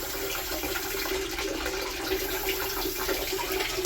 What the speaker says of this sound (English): trying to get all this water out of this tank here